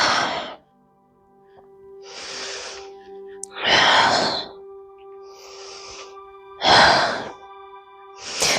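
Deep, slow breaths held in a revolved half moon yoga pose, five long airy inhales and exhales spaced evenly over steady soft background music, close and clear.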